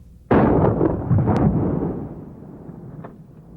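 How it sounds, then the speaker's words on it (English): A conventional shotgun loaded with buckshot fires into ballistic gel, a single sharp, loud blast followed by a booming decay that rings out over a few seconds. "Here's what conventional buckshot does to ballistic gel."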